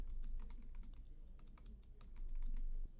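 Rapid key clicks from a computer keyboard as a name is typed into a game engine editor, a quick close run of taps over quiet background hum.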